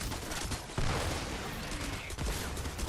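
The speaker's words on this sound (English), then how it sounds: "it shoots 2 bullets at once, which also helps you deal a little bit more damage" The Blackout assault weapon fires in Fortnite Save the World gameplay, a dense crackle of rapid gunshots with a couple of sharper bursts across three seconds.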